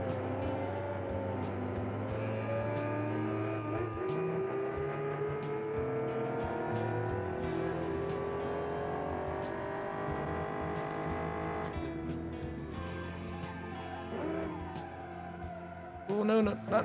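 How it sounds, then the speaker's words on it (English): GT race car engine in BeamNG Drive revving hard down the start-finish straight, a loud rising whine that climbs through gears, alone and close, with a burst of tire noise at the end. "Let's see if maybe with the big old engine, maybe I'll be able to make up some time going down the start and finish line."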